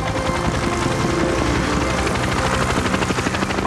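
Helicopter engine and rotor drone continuously at close range in the animated series RoboCop Alpha Commando, a dense steady whir with a rapid pulsing beat and no talk.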